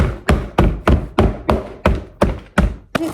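A steady run of sharp, dull impacts, about ten blows at an even pace, as a piece of chamotte clay is broken apart by hand, close up with no talking.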